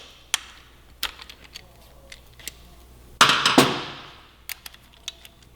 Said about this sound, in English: got a ratchet that I'm going to use here to break loose the return spring mount bolts